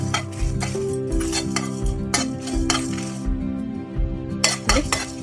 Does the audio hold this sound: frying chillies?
yes